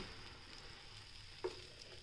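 Potato curry sizzling in a pan while being stirred, a steady faint frying hiss with one brief soft knock of the spoon, no voices.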